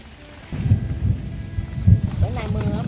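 Low thunder rumbles roll through steady rain, with a couple of deeper swells standing out over the wash of rainfall, close and moderately loud.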